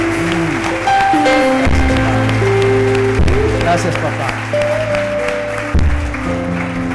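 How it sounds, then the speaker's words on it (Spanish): A crowd gives a loud round of applause for the King at an event, steady clapping running under tonal music while a voice speaks briefly over it. "un aplauso fuerte al Rey."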